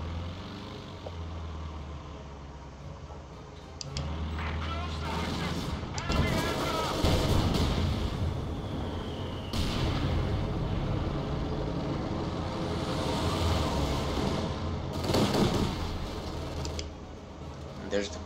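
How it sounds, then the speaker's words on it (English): Heavy mortar blasts and rumbling battlefield noise in the World War II strategy game Company of Heroes 2, with several booming impacts spread across a long stretch beneath a player's talk. "Sending in their mortars."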